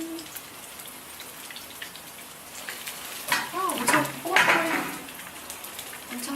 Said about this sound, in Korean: 자글자글 잘 익고 있어요.